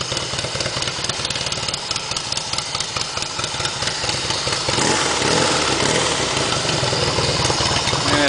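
Cold engine idling with the choke on, a close steady rapid chugging that lifts to a rougher, slightly higher-revving run partway through.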